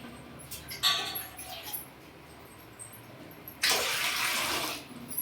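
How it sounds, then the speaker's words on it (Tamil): Water poured into a wide cooking vessel to steam a homemade bread cake in a Tamil home kitchen, a short splash early on and a louder, sustained rushing pour near the end. "நல்லா ஒரு அகலமான பாத்திரத்தில் நல்லா தண்ணி ஊற்றி"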